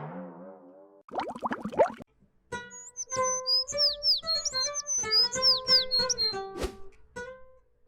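High, thin chirps and tweets from small birds, rapid and overlapping, heard fairly close, with a few other brief sounds mixed in at the start.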